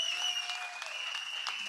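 Applause from an audience at a TVK political party meeting in Perambur, a steady wash of clapping that carries on without a break, with high tonal whistles over it.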